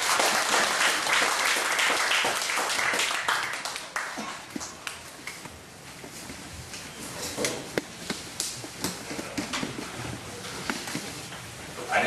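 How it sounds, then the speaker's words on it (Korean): An audience at a small church peace meeting claps together in dense applause that gradually thins into scattered, individual claps before fading. "박수로 환영을 하면서 발표를 하도록 하겠습니다"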